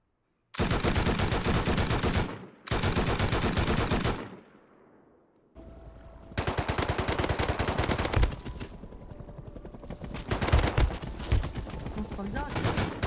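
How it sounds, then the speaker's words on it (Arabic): Bursts of rapid automatic gunfire in the video game Rust, loud and close, coming in several long volleys separated by brief pauses and ending in a denser clatter of overlapping shots. "طلقات."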